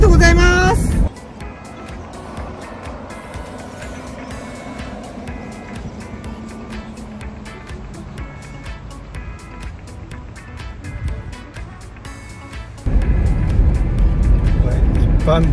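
A car travels along an ordinary road with a steady, muffled engine and road hum inside the cabin, with louder stretches at the start and end and conversation throughout.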